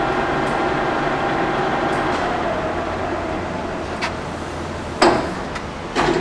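A Blanchard Model 18-36 vertical spindle rotary surface grinder runs with a steady, quiet machine hum and broadband whir, with a few brief clicks and knocks near the end.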